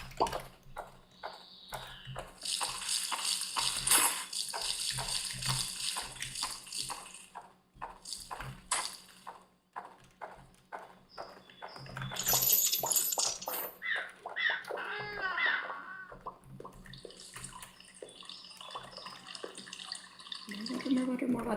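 Running water in the video game Pumpkin Panic, a steady splashing stream with dripping sounds, heard under intermittent talking and game effects.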